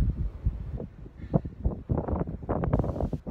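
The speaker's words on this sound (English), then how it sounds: "windy up here." Wind gusting over an exposed mountain summit during a climb, a steady low rumbling roar of air buffeting the microphone, rising and falling in loud irregular surges throughout.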